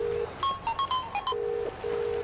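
A phone rings out on a call, a steady electronic tone pulsing in short repeated bursts, then holding in longer beeps, fairly close and clear with no talking over it.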